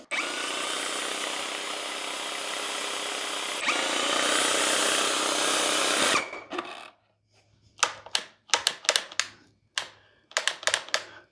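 A Lefondat 2-in-1 airless paint sprayer with a 515 tip pumps paint thinned about 15 percent, making a loud, steady mechanical buzz for about six seconds. The buzz then cuts out and a string of sharp nearby clicks and taps follows.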